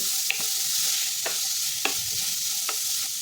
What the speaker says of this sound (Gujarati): દૂધી ઉમેરીને બધું સરસ મિક્સ કરી લઈશું અને દૂધીને આપણે 2 મિનિટ માટે સાતળી લઈશું